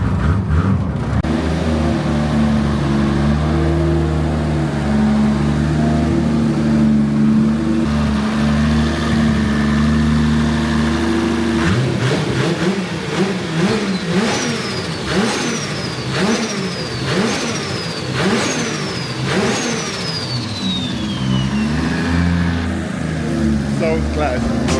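A race car engine idles with a steady low rumble, then is blipped through a string of sharp rising revs that fall back each time, loud and close with no voices over it.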